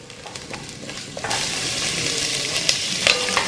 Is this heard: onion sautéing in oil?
yes